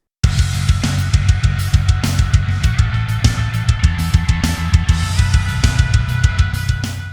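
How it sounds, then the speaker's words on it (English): Clean electric guitar chords strummed in a steady rhythm, each strike ringing out into a wash of reverb and echoing repeats, loud and close. "add some ambient clean tone guitars over here"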